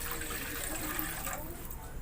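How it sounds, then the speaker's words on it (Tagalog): Water poured into a pan for boiling, a brief steady splashing stream running close by while a voice speaks quietly over it. "Tapos maglalagay tayo dito ng tubig."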